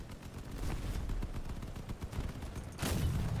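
Rapid bursts of gunfire pound a vehicle in the vehicle combat game Crossout, a dense, continuous rattle of impacts with a heavier surge near the end, loud and steady with no voices.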